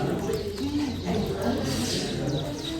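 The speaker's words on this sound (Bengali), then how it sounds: "আর একটু ভালো করে শুনলে পাখির ডাকও শুনতে পারবে।" Birds, pigeons or doves among them, coo and chirp in a botanical garden in Ooty on a day of light rain, the calls soft and fairly distant over steady outdoor ambience.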